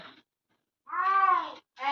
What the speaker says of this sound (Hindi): यहाँ पे देखिए बिल्ली फंस गई है, अब इसको निकालने की प्रोसेस जारी है।